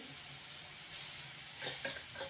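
Okra goes into a hot pan already seasoned with turmeric, giving a steady close sizzling hiss with a few brief crackling bursts as the pieces land; no voices.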